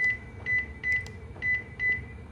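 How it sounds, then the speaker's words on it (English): Turn signals on a 2025 Toyota Camry LE Hybrid tick in a steady rhythm, five evenly spaced chime-like clicks each paired with a faint tone, heard close and alone with a low cabin hum underneath. "Here's a demonstration of the turn signals."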